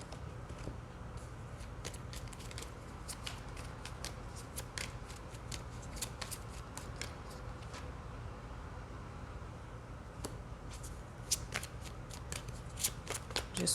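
Tarot cards are shuffled and pulled for a reading, giving a steady run of quick, crisp riffling snaps and flicks. The sound is close and fairly quiet, with no talk.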